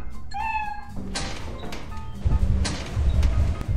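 Short meows from a cat in the video game Lethal Company ring out near the start, followed by thumps and clattering in-game noise.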